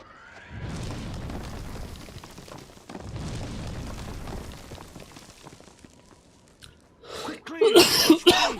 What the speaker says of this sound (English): you do get to hear me cough very loudly